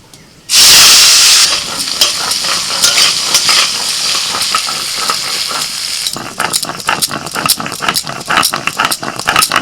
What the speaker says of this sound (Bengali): তেল গরম হয়ে গেছে লবণ হলুদ মাখানো করলে এবার দিয়ে দিচ্ছি